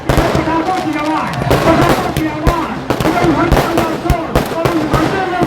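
Firecrackers burst at a cricket tournament final, a dense run of loud sharp cracks and pops in irregular rapid clusters, with crowd noise and a voice underneath.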